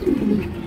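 A brief, close, low coo from a stray racing pigeon, a single soft throaty murmur under a second long.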